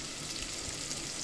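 Chopped onions fry in two tablespoons of hot oil for a chicken curry, making a soft, steady crackling sizzle that stays fairly faint for the whole brief moment.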